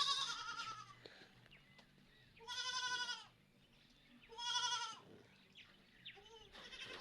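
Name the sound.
goat bleating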